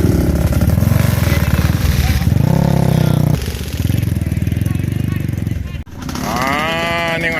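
Several Suzuki Panther motorcycles arrive at a riders' gathering, their engines chugging and revving loudly nearby, one throttle burst rising then cutting out sharply before another bike idles on, with voices talking over the engine noise.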